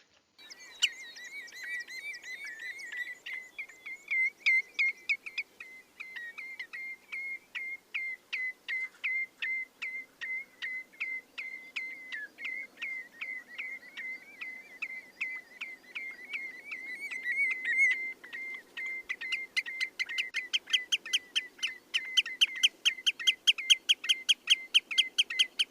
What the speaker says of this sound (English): The redshank is a noisy bird with loud, fluty, whistled calls.